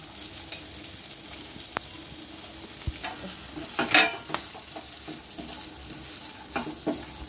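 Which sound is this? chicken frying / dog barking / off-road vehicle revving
chicken frying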